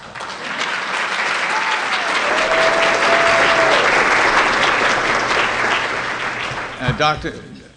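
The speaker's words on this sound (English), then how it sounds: "please, another round of applause for our Let's Scholar." Awards-event audience applauding a scholar, a full room of clapping that swells and holds steady for several seconds before tapering off, ending with a few louder close claps and a brief voice.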